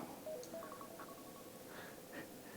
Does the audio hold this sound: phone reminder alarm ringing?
yes